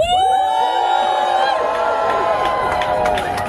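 A loud crowd at a protest rally in Springfield, Oregon cheers and whoops continuously, with shouting voices layered over a dense roar of applause throughout.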